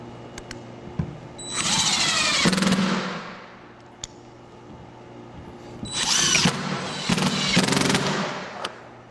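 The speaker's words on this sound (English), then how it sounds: "now we're going to take our driver here and start installing screws" A power driver runs screws into rail ties in two whirring bursts, each a couple of seconds long, rising in pitch as the screw seats. Quieter clicks and handling noise fall between the bursts.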